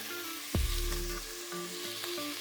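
Bacon pieces fry in a pan for rice, a continuous close sizzle with a low thump and brief stirring sounds partway through.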